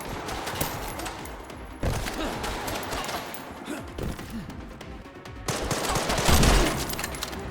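Rapid gunfire in the video game Resident Evil Requiem, sustained bursts of loud automatic shots with crashing impacts and rising intensity near the end, a faint voice occasionally underneath.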